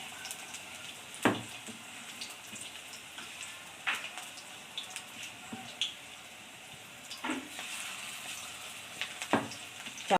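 Bog flowers (agati blossoms) coated in batter sizzle steadily in hot oil, a constant crackling hiss with a few sharper pops and clinks scattered throughout, close and fairly quiet.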